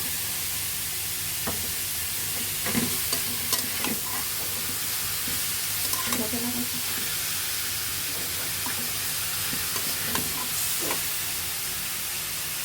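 Minced chicken for homemade momo frying in a pan, a steady low sizzle broken by scraping stirs and occasional clacks of a spatula, close and unhurried with no one talking.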